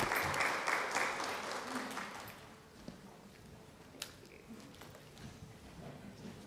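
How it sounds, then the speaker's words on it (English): Attendees at a SHAC meeting clap for presenters, a short burst of applause that fades within a couple of seconds into quiet room noise with occasional faint knocks. "One more round of applause, please."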